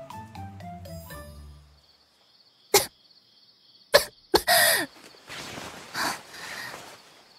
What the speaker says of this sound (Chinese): 只是咳嗽2声